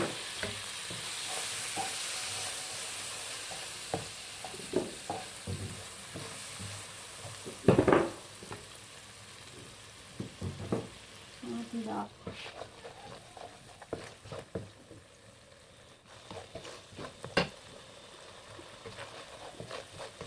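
Spices sizzle in butter for daal makhni, a steady fry that is loud at first and then settles into a quieter crackle, broken by stirring clinks and a brief spoon scrape.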